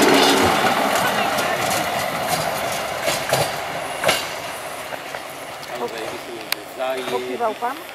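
A railcar rumbles past nearby on the Węgorzewo line with a steady broadband roar, faint clacking of wheels, while people talk over it.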